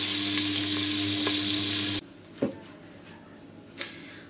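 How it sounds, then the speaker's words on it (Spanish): Tomato sofrito fries in a pan, a loud close sizzle for about two seconds that then cuts off, leaving a quiet room with a couple of faint clinks and no speech. "Y ahora ya voy a ver si le echo el tomate. Lo frío bien. Le doy un buen sofrito."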